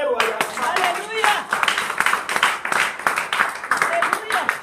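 A church congregation claps in steady rhythm while voices call out and acclaim together, the claps close and loud throughout with cheering layered over them.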